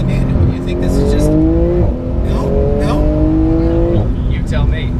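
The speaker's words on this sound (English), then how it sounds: "you have the full open exhaust, factory exhaust. Yep. This is how it sounds" A 2019 Porsche GT2RS with a factory open exhaust revs loudly and close by, engine pitch climbing in repeated rising sweeps that drop back between pulls, with occasional voices talking over it.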